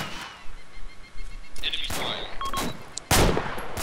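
Gunfire in Arma 2 with the ACE mod, with scattered single shots and short bursts, some near and sharp and others distant, ending in a loud close blast, alongside brief in-game sounds.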